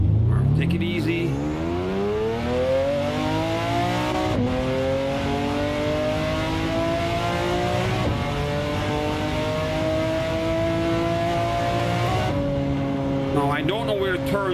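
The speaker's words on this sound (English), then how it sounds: "Now, the engine sounds nice. It's a little bit lighter on the exhaust." A McLaren race car engine in the Assetto Corsa video game roars nonstop, its pitch climbing through gear after gear with brief dips at each shift.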